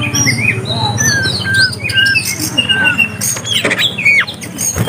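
An oriental magpie-robin sings varied, bright chirps and whistled phrases close by in the wild, with scratchy squawks mixed in over a busy, rustling background.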